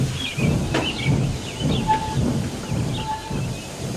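A steam engine puffs along in a rhythmic, chuffing beat with hissing steam, several regular bursts in close succession, as a story sound effect without speech.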